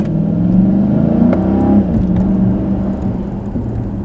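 A 2013 Dodge Charger SRT8 Super Bee engine revs up under half throttle while accelerating from an idle cruise around town, a loud, close, rising rumble with no talking.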